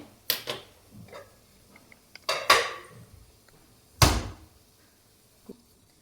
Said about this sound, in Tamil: அடுப்பத்தை வச்சுக்கலாம் அடிச்சட்டி வச்சுக்கலாம்